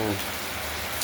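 Rain falls on a garden in a dense, even patter, close and continuous over a very brief moment.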